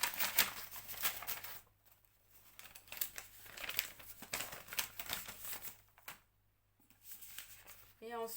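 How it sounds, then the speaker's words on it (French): Paper banknotes being slipped into a paper envelope, giving close, intermittent crinkling and rustling bursts with short quiet gaps between handling sounds. "On va les mettre dans l'enveloppe."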